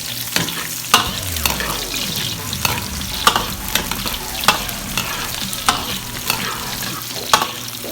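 Garlic and onion sautéing in a pan for chicken curry, a steady close sizzle broken by repeated scraping stirs and clinks of the utensil at a loose rhythm, with no talking.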